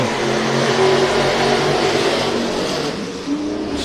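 Race cars roar around the Hibbing Speedway track, engines droning steadily with a rising and falling tone, loud and fairly close, without talk over it.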